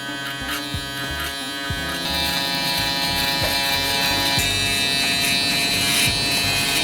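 An electric hair clipper buzzes steadily and close up while cutting a man's hair during a self-cut taper, with a continuous mechanical hum and light rhythmic ticks as it moves.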